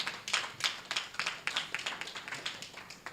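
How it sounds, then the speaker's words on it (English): An audience at a motivational speaking event claps in a steady, fairly even rhythm. The sharp, evenly spaced claps sound like a modest group rather than a roaring crowd. "can you clap for P1?"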